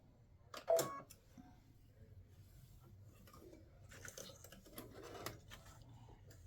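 A Baby Lock Solaris embroidery machine stitches a two-flower-and-leaves Mother's Day greeting card design, giving a steady low mechanical hum with scattered light clicks and taps, one sharper rattle near the start.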